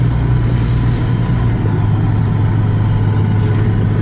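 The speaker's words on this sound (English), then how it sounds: "So now we're gonna drive up into the elevator." A vehicle engine, steady and loud with a low droning hum, as the vehicle drives up into a grain elevator, continuous and close with no voices.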